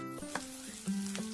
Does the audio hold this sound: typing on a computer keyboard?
no